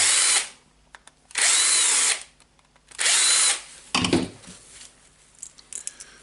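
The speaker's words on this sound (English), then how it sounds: "Now I want to unscrew the screws here, remove the back cover." Makita DDF485 cordless drill unscrewing screws from a back cover: three loud, steady whirring bursts of about a second each with short pauses between, followed by clattering handling noises.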